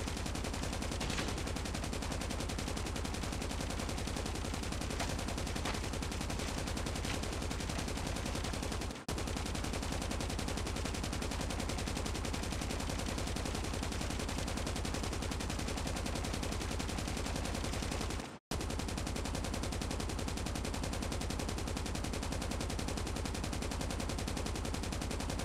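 Sustained automatic weapon fire from an RPD and an S36 in Call of Duty: Mobile, loud and continuous with two brief gaps, no talking.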